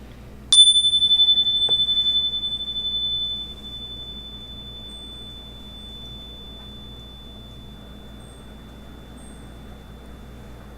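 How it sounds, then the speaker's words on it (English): A single meditation chime struck once, its clear ringing tone sustaining for a couple of seconds and then fading into quiet, with a faint low background hum underneath. "as we hear that chime, hold for that moment of silence afterwards"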